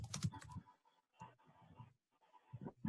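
Typing on a computer keyboard during a Python session, short clusters of quick, close key clicks separated by brief pauses.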